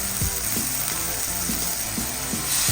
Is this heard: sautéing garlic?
yes